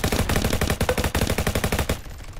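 Rapid automatic gunfire in a Roblox copy of Call of Duty: a loud, dense burst of shots lasting about two seconds, then abruptly stopping.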